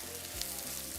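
Onions frying in oil in a covered pan make a steady, soft sizzle with no break, heard up close at low volume and with no voices.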